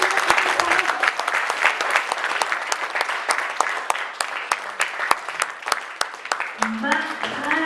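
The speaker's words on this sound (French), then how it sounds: "on acclame le Seigneur pour cette parole" A church congregation applauds in a steady, sustained burst of clapping with sharp individual claps standing out, while a preacher's voice carries on over it.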